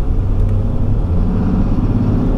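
A 2021 RAM 3500 Bighorn regular cab pickup, roughly 8,000 pounds, rumbles steadily from inside the cab as it drives and gently accelerates, a low continuous engine drone with road noise and no talking.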